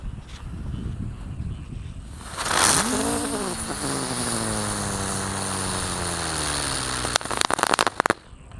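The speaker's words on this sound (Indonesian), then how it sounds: "di sini ada mercon teratai yang patek yang warna hijau guys" A green lotus spinning firecracker (mercon teratai) is lit at night during Ramadan, fizzing and then whirring with a rising, wavering whistle as it spins fast, ending in a few sharp crackles.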